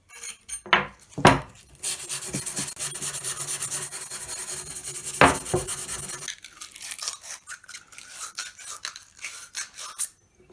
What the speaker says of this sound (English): we're just looking to give it a rough sand